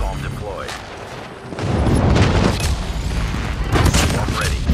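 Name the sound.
napalm airstrike explosions, video game Call of Duty Mobile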